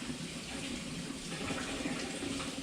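Warm water running steadily from a tap, a continuous close rushing hiss with no breaks.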